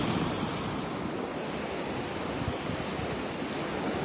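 Waves wash steadily onto a beach on a rainy early morning in North Naples, Florida, a dense broad rushing surf mixed with wind noise, continuous and fairly loud without any voices.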